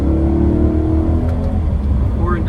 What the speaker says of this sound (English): Or induction noise, that's a quick example